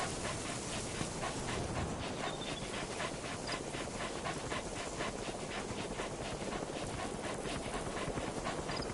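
In Metal Gear Solid V, a dog pants rapidly and rhythmically right up close, a continuous breathy huffing with a faint whimper mixed in.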